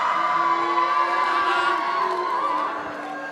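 Wedding guests at a walima reception in a hotel hall cheer, whoop and shout loudly together as a couple enters, a dense continuous crowd roar that eases off slightly near the end.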